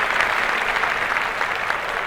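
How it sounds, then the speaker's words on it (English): Audience applause, a dense steady wash of many hands clapping at close range, loud and continuous throughout with no other sounds on top. "Clap that up."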